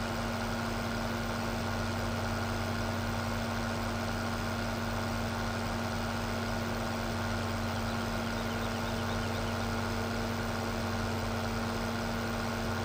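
A John Deere 9R series tractor engine in Farming Simulator 17 idles steadily, a constant low droning rumble with a humming tone, unchanging and close throughout with no talk.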